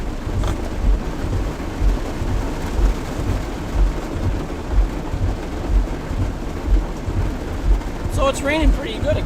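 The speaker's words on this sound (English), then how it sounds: "So it's raining pretty good again." Heavy rain pours steadily in an evening thunderstorm while low thunder rumbles roll in repeatedly, with a brief voice near the end.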